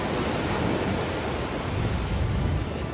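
Strong ocean waves surge around a capsizing, sinking tugboat during an emergency salvage operation, a steady loud roar of surf and wind with no talking.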